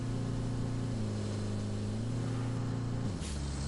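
A vehicle engine in the video game Roadcraft over-revs while reversing, a loud, constant droning hum that steps in pitch and then drops near the end.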